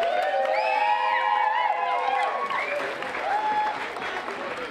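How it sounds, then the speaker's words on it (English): Audience at the finals of a national bouldering championship applauds and cheers in a sustained, loud burst, with whistles and whoops rising over the clapping and a voice heard through it. "Nice round of applause for everyone involved for tonight."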